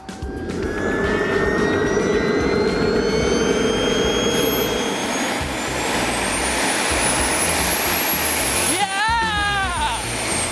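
A jet engine on a jet-powered bike spools up and runs loud and steady throughout, with rising turbine whine climbing in pitch over a dense roar, then a brief dip and wavering tone near the end.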